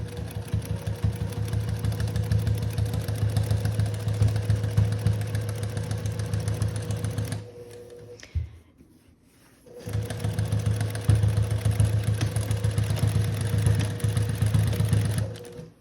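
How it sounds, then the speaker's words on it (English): Juki semi-industrial sewing machine stitching a patch through thick layers of denim jeans, a loud steady rapid motor chatter running alone, pausing briefly midway before resuming. "I do have a semi-industrial sewing machine. Mine is a Juki."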